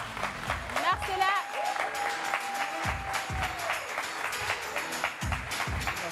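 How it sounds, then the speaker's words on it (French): A French TV studio audience applauds and cheers as a bachelor guest walks onto the dating-show set, steady clapping with bursts of louder hits under a host speaking and a held musical tone. "il convient donc de le recevoir avec des acclamations"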